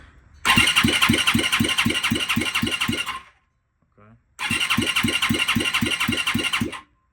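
Turbocharged dirt bike engine cranking over on the starter in two long bursts, a rapid rhythmic chugging with a loud high whine, separated by a brief pause, close and loud.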